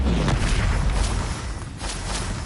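A Confringo fire-blast spell goes off in Hogwarts Legacy combat, a loud, sustained booming roar that is thick and close, with crackling bursts swelling and fading throughout.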